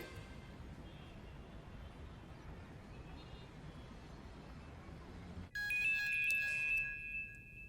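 An incoming-call ringtone on a phone starts abruptly after several seconds of steady background hiss, a bright electronic melody that continues loudly to the end.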